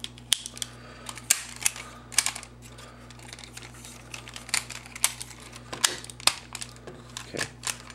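A plastic Transformers Flame Convoy toy is folded, making frequent small clicks and ratcheting snaps of the parts at close range over a low steady hum.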